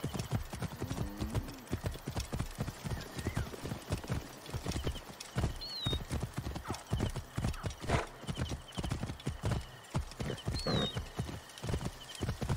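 A mare galloping in the video game Assassin's Creed Origins: rapid, steady hoofbeats drumming close and loud throughout, with several whinnies and snorts between them.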